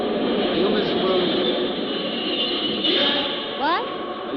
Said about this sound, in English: Oh, I hope this train doesn't wake him up.